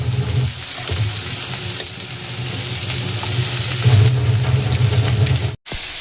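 Beans, capsicum and carrots fry in a pan, giving a close, loud, steady sizzle with stirring noises that drops out briefly near the end.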